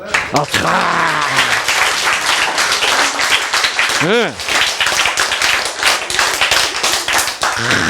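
An audience applauds during a lecture on the nature of life, dense clapping throughout under a lively crowd and a voice that speaks and rises briefly over it.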